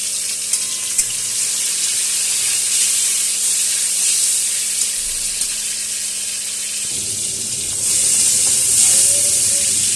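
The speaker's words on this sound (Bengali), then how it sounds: "তেলের মধ্যে আমি চিংড়ি মাছগুলো যে ম্যারিনেশন করে রেখেছিলাম সেই চিংড়ি মাছগুলো দিয়ে দিচ্ছি।" Steady, loud hiss and sizzle of marinated shrimp frying in hot oil, continuous and close, growing slightly louder toward the end.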